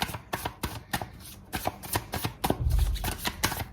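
Tarot cards are shuffled by hand, giving repeated crisp riffling flutters in an uneven rhythm, close and moderately loud, with a soft thump near the end.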